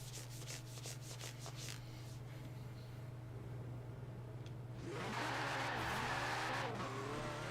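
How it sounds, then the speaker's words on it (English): A 2019 Porsche 911 Carrera S in Forza drones with a steady low engine hum, then a rough, hissing tire-on-road roar swells loudly in the second half; no talking. "911 Carrera S, 2019. Porsche 2019 911 Carrera."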